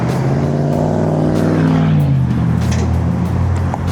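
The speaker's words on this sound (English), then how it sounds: "revving his big diesel engine" A passing vehicle's big diesel engine revs hard, its loud roar climbing and then falling as it goes by on a narrow road, with no talk over it.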